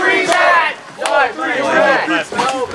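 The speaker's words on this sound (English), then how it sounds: "The crowd is saying 4-3 Troy!" A wrestling show crowd chants a match score in unison, loud rhythmic shouted bursts with short gaps between them.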